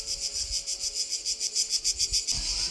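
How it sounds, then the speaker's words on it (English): Cicadas in Croatia sing their morning song in a rapid, pulsing buzz, several beats per second, steady and fairly close, with no other sounds. "let's just listen to cicadas just doing their morning song"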